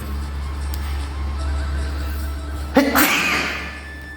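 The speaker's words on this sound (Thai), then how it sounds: "อากาศเย็นต้องให้ จามกันนะครับ" A single sharp, close sneeze in cold weather on Khao Khitchakut mountain, bursting out after a few seconds of steady low background hum.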